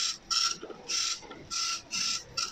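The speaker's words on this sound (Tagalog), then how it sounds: "Medyo mabagal lang to kasi nga ano siya, dot matrix nga siya na printer." A dot matrix printer prints a tattoo stencil in repeated loud, buzzing print passes, each lasting about half a second, separated by short quiet gaps as the head returns.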